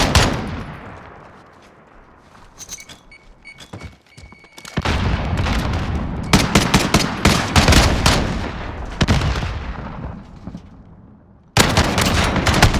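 Rapid bursts of automatic gunfire and single shots from a Call of Duty match at a university tournament, loud and dense, with brief lulls between volleys.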